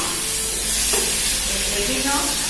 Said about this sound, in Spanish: yo voy a echar un poquito pequeño de ajo